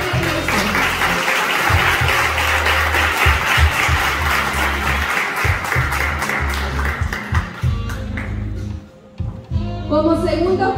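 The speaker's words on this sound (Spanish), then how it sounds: "Brindémosle un fuerte aplauso." Loud applause from the crowd at a Miss 4K beauty pageant in El Salvador, with thick clapping over a pounding music beat and a voice talking through it, thinning near the end.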